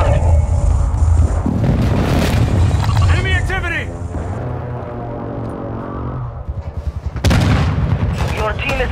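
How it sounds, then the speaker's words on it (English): Heavy booming explosions from an enemy precision airstrike in a video game, loud rumbling blasts layered with crackling debris, game voice lines and music over the bombardment. "Enemy precision airstrike."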